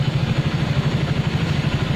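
A motorcycle engine idling steadily just after being started, heard close with an even, low, rapid throb throughout and no talking.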